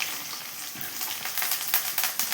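Curry leaves and garlic fry in hot oil in a pan, giving a continuous close sizzle with crackles and pops that grow a little livelier toward the end, with no talking.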